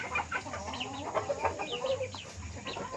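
A chicken that has recovered from a snoring respiratory illness clucks in quick, irregular bursts, close by, with a low farmyard murmur behind it.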